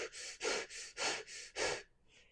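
A person imitates heavy, labored breathing, making five loud rhythmic breaths in a steady pattern, close to the mic, followed by a fainter trailing breath with no talking.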